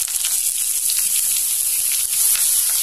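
Curry leaves, green chillies and ginger-garlic paste hit hot oil for masala pulao, giving a loud, bright, continuous spitting sizzle with no voices.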